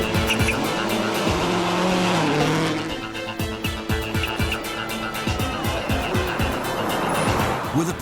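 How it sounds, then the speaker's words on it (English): A Subaru World Rally Team rally car at full attack on a stage, engine revving hard through rapid gear changes with tyre squeal and skidding, loud and close throughout. "With a perfect car and a tank full of confidence, Petter engages maximum attack"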